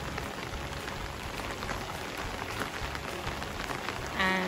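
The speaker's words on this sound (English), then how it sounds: "So much rain. Muddy road. Flooding water. Non-stop rain." Heavy rain pours down continuously, a dense close patter of drops drumming on surfaces without any pause, beside an overflowing river.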